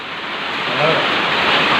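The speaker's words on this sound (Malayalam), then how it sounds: "നല്ല മഴയല്ലേ രാവിലെ" Heavy morning rain pours down in a dense, continuous hiss that swells slightly and stays loud and even throughout, with no voices.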